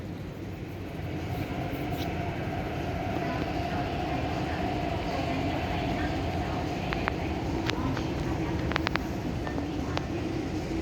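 An MTR C-Train, a Chinese-built copy of the SP stock, runs between Hung Hom and Nam Cheong on the Tuen Ma line, giving a steady rumbling interior roar with a few faint clicks and squeals throughout.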